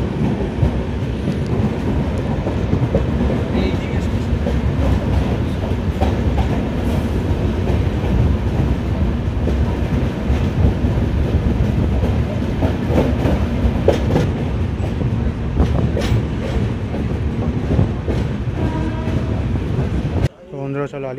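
The Brahmaputra Mail passenger train pulls into New Alipurduar station with a loud, steady rumble of rolling wagons and rail clatter that continues throughout and drops off sharply near the end.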